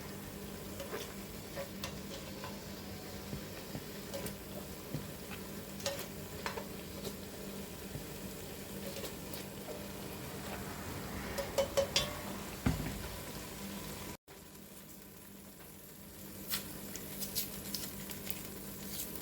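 Salted butter sizzling in a pan with cooking juices for potato soup, a low steady frying hiss with occasional soft stirring clicks and scrapes, close and fairly quiet, no voices.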